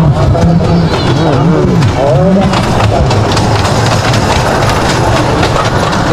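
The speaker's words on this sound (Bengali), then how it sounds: "তো গাইস ট্রেন ছুটছে, দেখা এখন ট্রেনটা ছুটতে আরম্ভ করে দিয়েছে এই পাশে।" A small motor-driven children's ride train runs at a crowded village fair, giving a steady loud mechanical rumble and clatter with a few squeaks and a busy crowd around it.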